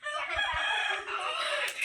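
A household rooster crows loudly and close by, a single drawn-out cock-a-doodle-doo filling most of the moment, with no talk over it.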